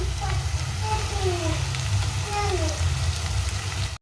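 A dried fish curry base fries with turmeric in a pan, making a steady, close, hissing sizzle like light rain that runs evenly throughout before cutting off abruptly at the end.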